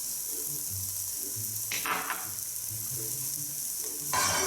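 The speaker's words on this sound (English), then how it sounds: "Reduce the fire and throw in the shallots and the garlic." Shallots and garlic are sautéed in a pan over lowered heat, giving a constant soft sizzle with a burst of louder hissing as they land, and another flare of sizzling near the end.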